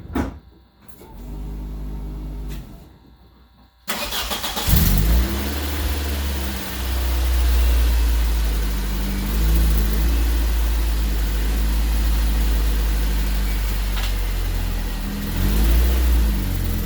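A car engine cranks, catches and starts, then revs up and settles into a rough idle with further revving, close and loud, with faint outdoor background noise.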